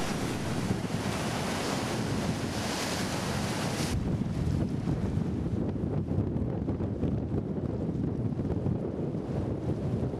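Ocean surf at the tip of the Gaspé Peninsula roars steadily and close, a dense wash of breaking waves mixed with heavy wind buffeting the microphone throughout, with no voices.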